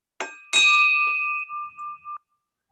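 A bell at a Rotary club meeting rings out with two close strikes, the second leaving a long bright sustained tone that decays and wavers before being damped, loud and alone.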